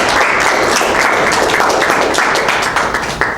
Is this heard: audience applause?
yes